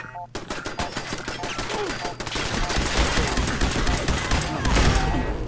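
Dense, rapid gunfire fills a Fallout 4 firefight, with loud overlapping shots and bursts building into a constant barrage.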